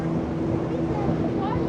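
Steady motorboat engine drone and rushing water with wind buffeting on a speedboat ride across a lake at an amusement park resort, continuous and fairly loud, with people talking over it.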